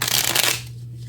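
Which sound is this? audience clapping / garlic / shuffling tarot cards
shuffling tarot cards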